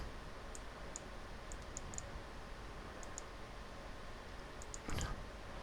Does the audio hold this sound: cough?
no